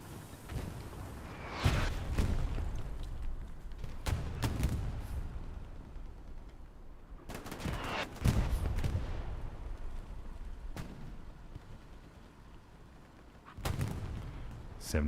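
Grenade blasts and distant gunfire in the WWII shooter Hell Let Loose, set in the town center of Carentan, several heavy booms spaced apart over a low battlefield rumble.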